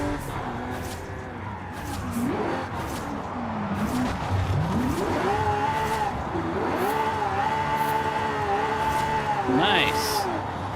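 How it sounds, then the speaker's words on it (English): A car drifting in Forza Horizon 5 with a drift tuning setup, engine revving and rising and falling in pitch while tires squeal through long slides, loud and continuous, with a person talking over it. "It does drift nice in this tuning setup"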